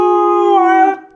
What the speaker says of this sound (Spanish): Vamos a ver si sabes aullar.